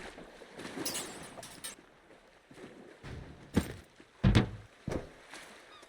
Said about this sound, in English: one of the reasons I prefer the sailboat to this paddle boat is the noise this makes